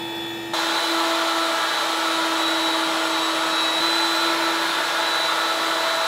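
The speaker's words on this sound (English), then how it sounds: "I'm going to make this groove using a stacked dado set at the table saw" Table saw fitted with a stacked dado set whines up and runs steadily, a loud, even high-pitched hum with a sharp start and little variation.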